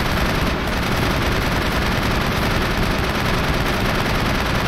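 Gunfire from a weapon in Mass Effect, a dense, continuous rapid stream of loud shots and blasts filling nearly five seconds without pause.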